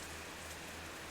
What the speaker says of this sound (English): Let's go there and wait out the rain.